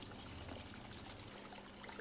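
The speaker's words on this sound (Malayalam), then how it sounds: "നല്ല ശക്തിയായിട്ട് വെള്ളം വീഴുന്നതിൽ കഴുകിയെടുക്കുന്നത്." Water splashes in a strong, steady stream while rosemary roots are rinsed during repotting, a continuous close pouring and trickling sound with no voices.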